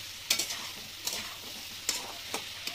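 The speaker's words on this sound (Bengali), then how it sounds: "এবার এগুলো একটু নাড়াচাড়া করে নেবো ভালো করে।" Cucumber and fish curry fries in a pan while a utensil stirs it, giving a soft steady sizzle broken by four distinct scraping strokes, close up and with no talk.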